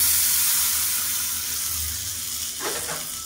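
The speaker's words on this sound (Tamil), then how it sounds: "கடுகு, சீரகம், கருவேப்பிலை, வரமிளகாய், பெருங்காயம் போட்டு தாளிச்சு வச்சுருக்கேன்." Hot oil tempering of mustard seeds, cumin, curry leaves, red chilli and asafoetida poured over a chutney made without coconut gives a steady broadband sizzle, loud and close, with a brief watery stir near the end.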